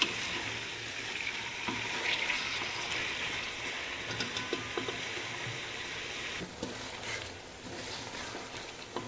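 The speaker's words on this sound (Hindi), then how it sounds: "इसे हमने फास्ट फ्लेम पे ये भी 2 से 3 मिनट अच्छी तरह से हमने भून लेना है।" Chicken pulao ingredients frying on a high flame, a steady loud sizzle with occasional stirring clinks, running alone throughout without talk.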